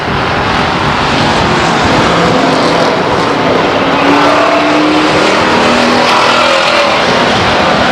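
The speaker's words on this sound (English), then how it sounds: "Little tight, bunched up racing going into turn 1 off of 2." Race cars roar around the oval at Stockton 99 Speedway in a tight pack heading into turn one, a loud continuous engine drone with rising and falling pitch as cars pass close by.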